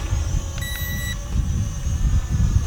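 Tianqu XS809W foldable camera quadcopter beeping on return to home, a short bright tone heard once or twice over loud wind rumble and rotor buzz outdoors.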